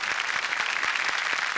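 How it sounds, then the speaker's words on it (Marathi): An audience applauding film producers on a comedy TV show stage: dense, even clapping from a crowd, loud and continuous for the whole moment. "यांच्यासाठी जोरदार टाळ्या."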